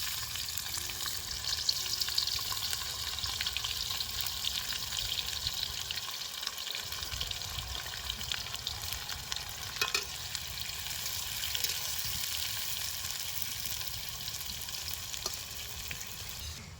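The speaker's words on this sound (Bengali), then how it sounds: "পেঁয়াজটা আমরা এবার হালকা আছে ব্রাউন করে ভেজে নেব।" Chopped onions fry in hot mustard oil in a kadai for birista, giving a steady, dense sizzle with soft stirring scrapes throughout and no voices.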